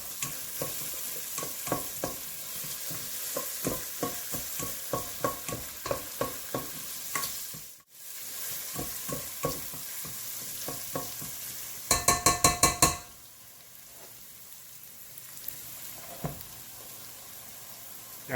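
Garlic and ginger frying in a pan while being stirred, a steady sizzle broken by rhythmic scraping strokes, a brief pause, then a quick burst of louder clattering stirs before the sizzle settles again.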